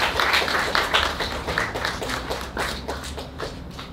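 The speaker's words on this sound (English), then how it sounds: "I think you should give yourselves a round of applause." An audience at a charity foundation launch claps in a short burst of applause, close and fairly sparse, individual hand claps distinct and fading slightly toward the end.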